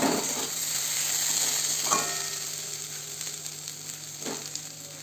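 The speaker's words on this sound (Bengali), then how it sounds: "এগুলো আমার প্রায় সিদ্ধ হয়ে গেছে এবার আমি আর ঢাকা দেব না খুলে খুলে এবার ভাজবো" Food sizzles steadily in an open pan as it fries after being parboiled under a lid, a continuous close crackling hiss with a couple of brief stirring scrapes and no talking.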